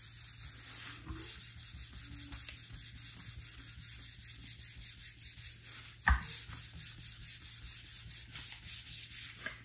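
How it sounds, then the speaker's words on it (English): Paper rubbed firmly by hand over a gel printing plate carrying dried Posca pen and acrylic paint, a steady rhythmic scrubbing that runs throughout with one sharper knock partway through. "we really need to give this a proper rub onto that to adhere it"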